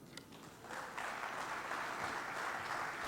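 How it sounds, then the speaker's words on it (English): Applause for a Rotary district governor at a plenary session of a district conference in Trinidad, a broad steady patter of many hands that swells in after a brief lull and holds at a moderate distance. "Give him another round of applause."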